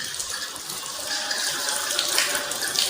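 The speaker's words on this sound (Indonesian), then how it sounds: "Pastikan air mengalir sampai siku-siku." Tap water runs steadily over a person's arms during Islamic ablution, a continuous close hiss and splash from the faucet with no pauses and no talking.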